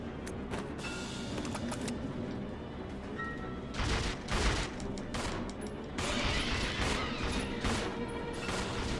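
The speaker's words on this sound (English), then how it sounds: "Stop shooting." Gunfire in Resident Evil 0 HD during a fight with a giant scorpion, a steady clatter of repeated shots and crashes for the full stretch, with heavier bursts near the middle and toward the end.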